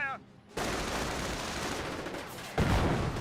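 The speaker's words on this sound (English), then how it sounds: "Mortar got a decent hit there." A mortar shell striking in Company of Heroes, a loud blast that swells into a long rumbling roar, followed by a second heavy impact near the end, with no talk over it.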